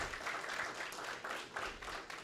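A church congregation applauds during a sermon, the clapping soft and somewhat distant, rising and falling in uneven waves.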